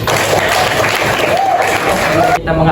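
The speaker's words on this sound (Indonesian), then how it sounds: "mari kita tepuk tangan untuk semuanya." Students clapping together at the end of a class at SMKN 1 Jakarta, a loud dense burst of applause with crowd noise and a faint voice mixed in, stopping abruptly near the end.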